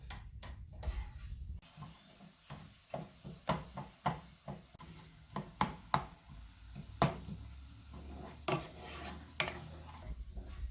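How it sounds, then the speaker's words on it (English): Onions and garlic sautéing over low heat in a pan, a quiet sizzle broken by repeated knocks and scrapes of a utensil stirring against the pan, close by with no talking. "The onions and garlic are getting nice and cooked."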